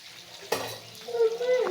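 Soya kababs frying in hot oil on a stove give off a close, steady sizzle with a sharp crackle near the start and no talking.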